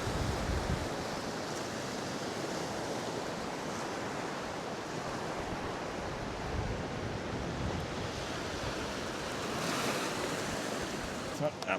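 Ocean waves break and churn over a rocky ledge on the Jurassic Coast shore at Kimmeridge, a continuous, fairly quiet roar of surf mixed with wind buffeting the microphone.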